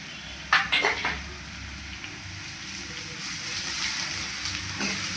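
Crushed black pepper and garlic hit hot oil with frying shallots for rasam, giving a couple of sharp clattering knocks at the pan and then a steady, close, hissing sizzle.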